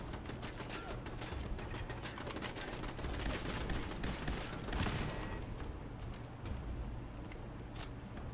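Continuous automatic gunfire in Fallout 4, an enemy shooting at the player, heard fairly faint but steady across the whole stretch, with bursts rattling over a dense background.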